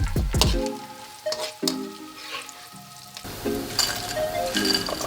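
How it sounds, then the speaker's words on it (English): Anchovies sizzle and crackle in oil over a low flame, with a few sharp clinks of a utensil stirring the pan at the start and a steady close frying hiss throughout. "The next step, we are going to fry up the anchovies."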